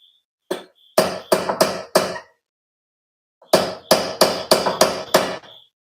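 A hammer striking metal during tie rod replacement on a BMW 328i, two close-range bursts of sharp, ringing blows, four then six in quick rhythmic succession, separated by a pause.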